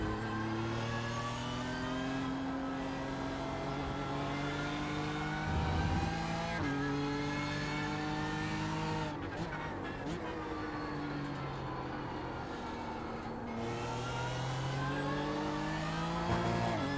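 BMW M4 GT3 race car in iRacing, its engine note climbing and dropping through the gears in a steady, loud, continuous drone with no one talking.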